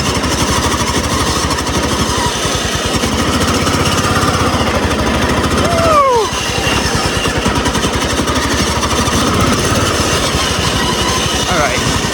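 A scratch-built fast racing lawn mower engine runs steadily at idle, loud and close, with a continuous rough, rapid mechanical chatter and a brief dip near the middle.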